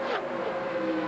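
NASCAR Winston Cup stock cars roaring at speed around Talladega Superspeedway in the 1997 Sears DieHard 500, a dense steady engine drone with a brief rising pass early on, loud and continuous.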